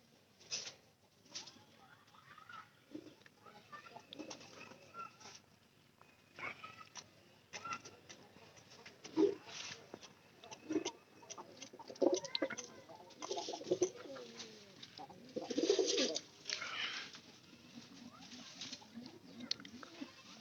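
White pigeons kept at a household coop coo in soft, low bursts now and then, amid light fluttering and shuffling from the birds feeding nearby; no one speaks.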